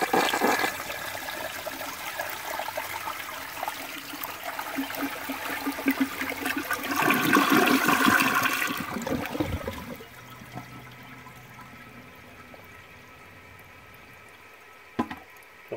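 A 1970 American Standard Cadet toilet flushes loudly up close, its rushing swirl building for several seconds before cutting off into a quieter refilling trickle, with one brief clunk near the end.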